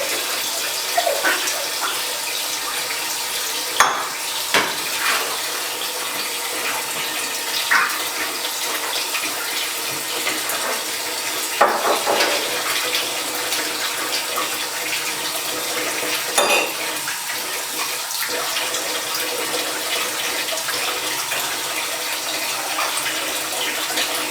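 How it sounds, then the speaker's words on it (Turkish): Water runs steadily from a tap with occasional clinks and knocks of dishes being handled, a continuous splashing wash with no talking. "bulaşık yıkarken bol bol köpüklüyorsunuz"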